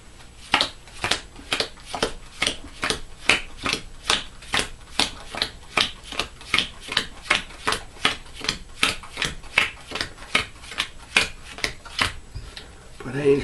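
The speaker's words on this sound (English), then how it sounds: "So we're going to shuffle this back in." Deck of game cards for a cooperative board game being shuffled by hand, a brisk, regular series of about thirty crisp riffles and slaps at an even rhythm, close and clear without talking.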